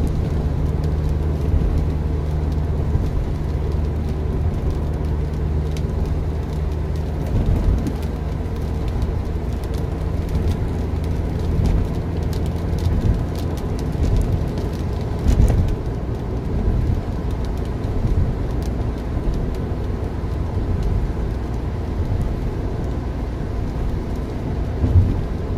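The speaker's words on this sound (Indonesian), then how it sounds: "Nah kan hujan lagi." Steady morning rain falls throughout with a low rumbling undertone that could be distant thunder, plus faint bird calls; no one speaks.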